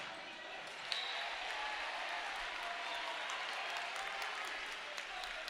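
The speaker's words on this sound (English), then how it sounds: "Crowd filtering in. The Daniel Hand student section starting to file in as well." Crowd noise fills a high school basketball gym before a CIAC Division III boys' semifinal, a faint, steady murmur and shuffle with a sharp thump near the start and scattered squeaks and knocks.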